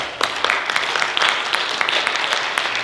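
Audience applause for the host pastor inside Bethel Baptist Church in Collegeville during an evening community runoff forum, a steady, dense clatter of many hands filling the room for about three seconds without speech.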